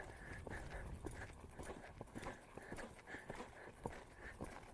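A horse lopes around a riding arena during lead-change training, its hoofbeats thudding in a steady three-beat rhythm at moderate distance, faint and continuous with no talking.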